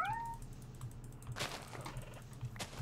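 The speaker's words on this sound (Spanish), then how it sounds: "Maldito gato." A cat meows in a modded Minecraft game, with a short rising-falling cry at the start and then soft clicking and tapping that sounds like keyboard typing, all fairly faint.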